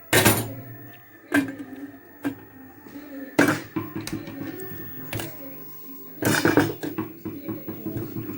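A lid is set down on a pot of chickpeas cooking with meat: a handful of separate knocking clatters spread out over a low, steady kitchen hum, with no voices.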